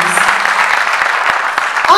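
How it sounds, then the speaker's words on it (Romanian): Applause from the audience at a Romanian community gathering in Bucharest for people from Gorj, short dense clapping heard close and loud throughout with a voice briefly over it. "Aplauze pentru aceste două"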